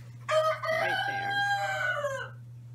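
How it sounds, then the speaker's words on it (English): A rooster crows outdoors, a single long, loud, close cock-a-doodle-doo that rises and then trails off, over a low steady hum. "you see the other rooster behind me"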